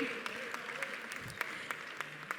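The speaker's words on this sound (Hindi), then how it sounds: "जोरदार तालियां आकाश गुप्ता जी के लिए।" Scattered applause for an honoree at a stage event for a Sampoorna Ramayan show, a thin patter of sharp claps spread through a few seconds with a low murmur behind.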